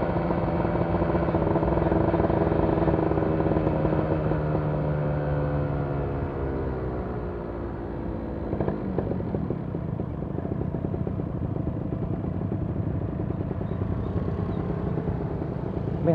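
Kawasaki Ninja R 2012 motorcycle engine droning loud and close on a test ride, with rising revs in the first seconds, then a slight dip and a rougher, steadier run amid wind noise.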